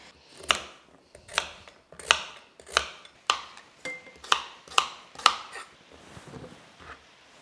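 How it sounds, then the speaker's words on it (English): A knife chops rhubarb into thick batons on a cutting board, nine or so crisp, evenly spaced strokes at close range, each a sharp knock that fades, alone without talk. "we're going to cut this now into about centimetre and a half battens"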